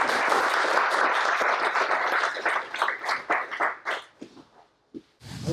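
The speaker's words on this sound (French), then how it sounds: "Merci d'applaudir, Guillaume." A conference audience claps for a presenter, dense full applause that rings on and then breaks apart into scattered claps and a brief silence before swelling again at the end.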